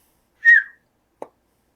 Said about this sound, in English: That sound effect as he whistles through the air.